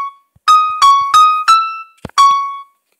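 The Five Nights at Freddy's music box melody plays on piano in the high register around E6, D6 and C6, with five bright, ringing notes in an uneven rhythm separated by a brief pause.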